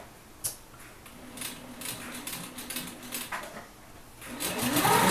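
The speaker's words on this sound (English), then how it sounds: "I'm just going to do a simple inline stitch with a vein" A sewing machine stitches leaf appliqués onto a quilt, its needle running in short, soft bursts with brief pauses, then building to a steadier, louder run near the end.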